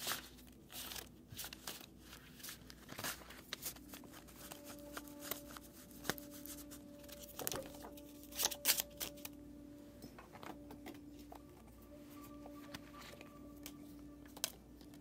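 Tarot cards being shuffled and handled, quiet irregular riffling and soft papery taps in scattered bursts, close and alone.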